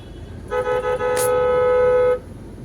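A car horn gives one sustained honk of about a second and a half amid standing traffic in a jam on a road near a flyover, loud and close, with faint street noise around it.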